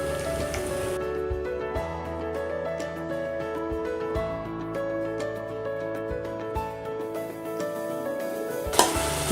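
Chicken marinated in masala, added to a pan of ginger-garlic paste for Tamil pepper chicken, sizzles steadily and crackles with spatters throughout. A metallic stir scrapes near the end.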